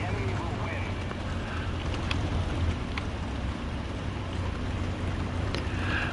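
American boat engines in War Thunder produce a steady, droning rumble and wash of water noise at moderate volume throughout, with occasional faint clicks and no clear speech.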